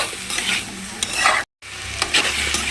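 Chopped banana stem with salt stir-fried in a pan, a steady sizzle with scraping stirs and clattering spatula strokes, close and fairly loud, broken by a brief cut to silence midway.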